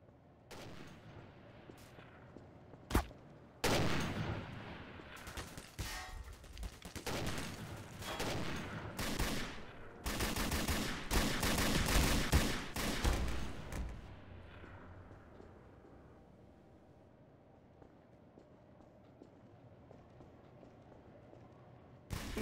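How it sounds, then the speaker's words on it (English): Gunfire in a Half-Life dark roleplay game, with scattered single shots and then dense bursts and rapid volleys that fade back to quiet toward the end. "I'll shoot him."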